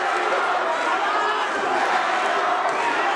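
Loud, roaring crowd noise fills a boxing arena during a fight, a continuous dense wash of shouting and cheering voices with no let-up.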